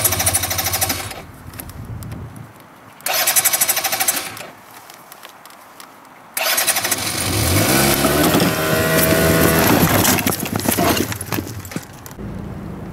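A Keeway F-ACT NKD scooter is started: two short bursts of cranking buzz with pauses between, then the small engine catches and runs, rising into a sustained revving drone.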